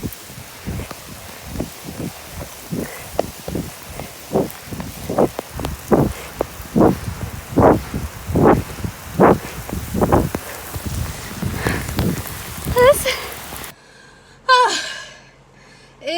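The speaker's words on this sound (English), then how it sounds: "Oh, it's pouring." A heavy outdoor downpour beside an old-timey fence and prairie hisses steadily, with sharp, splashy bursts of rain rising and falling in intensity before cutting off abruptly near the end.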